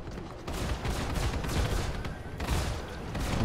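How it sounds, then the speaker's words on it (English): Rapid, sustained gunfire from four weapons at once in a video game, a dense continuous barrage with heavy low-end rumble that runs loud for the whole stretch with no talking. "Firing with all four weapons is quite strong"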